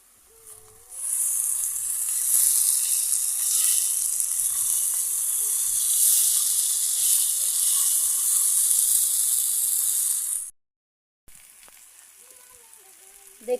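Vegetable bhaji frying in a pan makes a loud, steady, close-up sizzle for about ten seconds, then cuts off abruptly and is followed by quieter room sound with faint traces of a voice.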